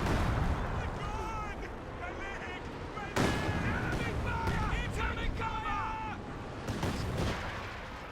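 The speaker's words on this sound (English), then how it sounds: "their allied rocket artillery is really just getting so many kills over here" Allied rocket artillery fires in a Company of Heroes 2 battle, with repeated loud booming bursts and whooshing launches amid continuous battle noise, while a voice talks over it.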